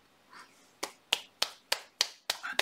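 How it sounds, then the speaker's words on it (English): Wet coffee splatters flicked from fingers onto paper during finger painting, a run of six sharp, close slapping splats at steady intervals after a soft rustle, each snapping like a clap. "No, that's not applause for myself. It's only splattering coffee."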